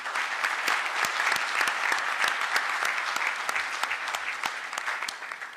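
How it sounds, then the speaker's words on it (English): A dense audience at a Kenya–Poland economic dialogue in Nairobi applauds warmly and steadily to welcome the President of Kenya, with crisp individual claps standing out through the continuous clapping. "With applause, we welcome His Excellency."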